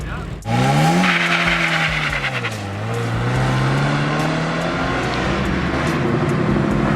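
A Mazda Miata drag races a Ford Mustang 5.0, with loud, close engines revving hard and climbing in pitch through the launch, then holding a sustained roar with some tire noise.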